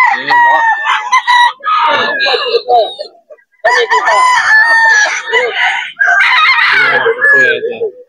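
A sweater gamefowl rooster at a busy pet market crows loudly and repeatedly, with clucks and other fowl calling close by and crowing layered over one another throughout.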